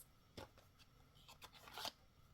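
Several quick, crisp riffling bursts of playing cards being shuffled, soft and close, with brief pauses between them.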